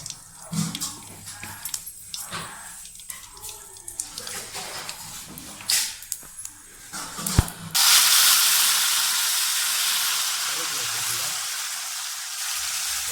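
Mustard and fenugreek seeds hit about a hundred grams of hot oil for a village-style tilapia fish curry, bursting into a loud, steady hiss and sizzle close by after a stretch of quieter kitchen clatter and a voice.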